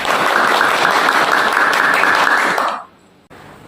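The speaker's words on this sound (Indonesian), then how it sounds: "beri tepuk tangan dulu dong untuk adik Johan." A podcast audience at a school event gives a burst of applause, dense and fairly loud for a couple of seconds before cutting off abruptly, with a brief faint trace after.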